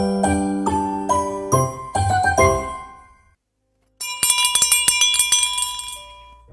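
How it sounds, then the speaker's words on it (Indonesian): Christmas bells ring in a quick descending series of clear chimes, stop for a brief silence, then return as a brighter cluster of rapid jingling strikes that ring out and fade. "Lonceng Natal berbunyi."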